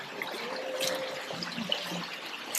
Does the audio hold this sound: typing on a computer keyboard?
no